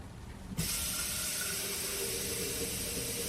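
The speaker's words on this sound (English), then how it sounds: "I'm going to fill this jar back up with water." Water from a faucet rushes into a jar for bean soup, starting abruptly after a short pause and then running as a loud, steady stream.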